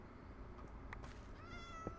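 Minecraft cat meowing in a desert sandstone area, a couple of brief, soft mews followed by a longer rising meow, heard faintly over a constant low game ambience.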